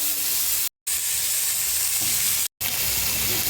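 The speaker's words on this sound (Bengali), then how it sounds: "পেঁয়াজের কালারটা যতক্ষণ না চেঞ্জ হচ্ছে ততক্ষণ পেঁয়াজটা একটু ভালো করে ভেজে নেব।" Chopped onions fry in a pan with a loud, continuous hissing sizzle, cut twice by brief moments of total silence; no one speaks.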